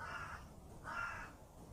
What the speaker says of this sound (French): Et je crois que le corbeau vient de répondre.